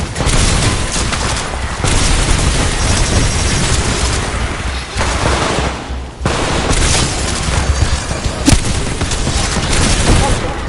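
Dense, continuous gunfire with heavy explosive booms from the Titanfall 2 campaign, sustained and loud throughout with only brief dips, with faint voices mixed in.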